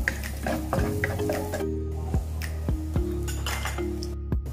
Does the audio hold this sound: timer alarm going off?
no